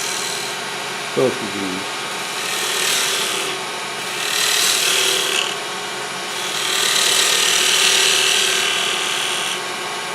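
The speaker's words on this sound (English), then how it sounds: "now I could just use my bowl gouge to start rolling" Bowl gouge cutting a wooden salt box on a lathe, a steady rasping scrape of wood that swells and fades in long passes, with someone speaking briefly over it early on.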